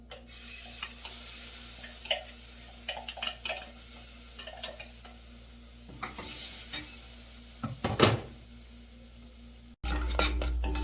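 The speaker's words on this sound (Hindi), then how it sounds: "अब तब तक इसको मिक्स करना है जब तक ये तेल ना छोड़ दे" Tomato masala frying in oil in a pan is stirred with a spoon, giving a soft steady sizzle under scattered scrapes and taps against the pan and a louder clatter near the end, with no talk.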